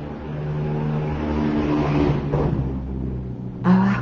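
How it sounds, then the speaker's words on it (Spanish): A motorcycle passes by outdoors as a steady engine rumble that swells slightly and then fades, with a brief sharper noise near the end and no one talking. "haciendo ruido, como esa moto, todo va haciendo ruido"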